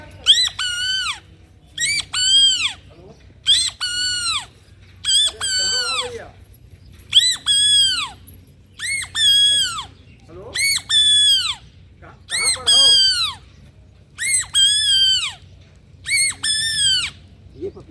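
A voice imitates the call of the papiha, the common hawk-cuckoo, in a series of about nine loud, shrill, rising whistled phrases repeated at a steady rhythm with short pauses between, close to the listener.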